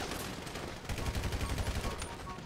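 Rapid gunfire in GTA V Online, a dense burst of loud automatic shots that starts abruptly near the mic and holds steady for about two seconds, with no talk over it.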